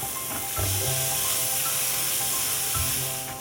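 Grated beetroot, carrot and peas sizzle steadily in a pan while being mixed, a dense close frying hiss with occasional stirring scrapes.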